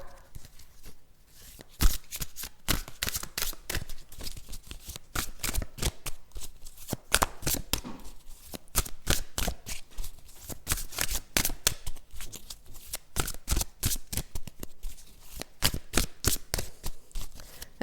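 Psychic Tarot cards being shuffled close up, a long run of rapid, crisp riffling snaps and soft slaps in quick irregular bursts with no one talking.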